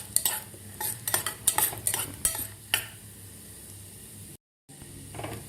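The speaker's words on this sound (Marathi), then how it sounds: "थोडासा कलर चेंज होईपर्यंत आपल्याला हे परतून घ्यायचे आहे तुपामध्ये" Almond and pistachio slices frying in ghee are stirred with a spoon in a pan, making quick rhythmic scrapes and clinks over a soft sizzle, close and fairly loud, then a brief silence and quieter frying.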